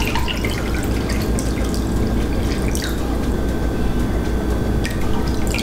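Water trickles and splashes steadily as 365 grams are poured into a bowl for a rustic four-ingredient bread dough, a close, continuous liquid stream with light dripping.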